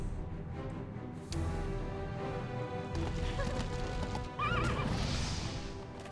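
Several horses neigh and whinny over a steady bed of game music and ambience, with hoofbeats and clip-clop mixed in, in a Heroes of Might and Magic V battle; the whinnies come through prominently near the end.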